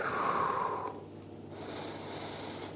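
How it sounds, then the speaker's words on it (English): Slow, soft breathing close by during a supported lower-back stretch for an L4-L5/L5-S1 disc bulge: one long airy breath out, a brief pause, then a quieter breath in. "I'm breathing in and out."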